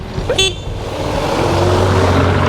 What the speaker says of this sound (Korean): 크락션 좋아 크락션 좋아